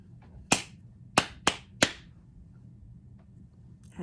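Four sharp hand claps in an uneven rhythm, two spaced apart then a quicker pair, crisp and close against a quiet room with no talking.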